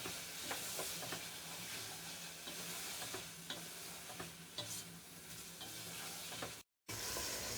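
Chicken and chopped tomatoes sizzle steadily in a hot pan for Hyderabadi chicken biryani, with occasional stirring clicks and a brief cut to silence near the end.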